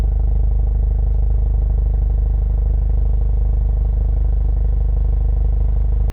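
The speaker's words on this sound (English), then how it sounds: "you also do have these dual exhaust, and all you have to do is let it sit, and it sounds like an animal." A 2021 Hyundai Veloster N's deep, throaty dual exhaust idles steadily and loudly up close in normal mode, a rumbling low burble with no talking, cutting off abruptly at the end.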